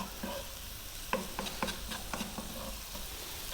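Small-cut white mushrooms frying in a pan, a steady sizzle under a quick run of close scraping and tapping stir strokes, no voices.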